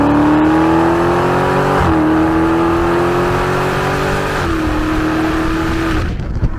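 A Dodge Challenger Scat Pack's exhaust holds a deep, steady roar, with the pitch climbing in three stretches before dropping off near the end.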